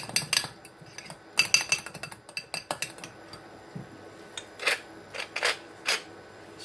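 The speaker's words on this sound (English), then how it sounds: "The yolk I mix with the coriander," Egg yolk being mixed with coriander in a bowl gives a string of sharp clinks and taps of a utensil against the dish, in irregular bursts, close and fairly quiet, with no talking.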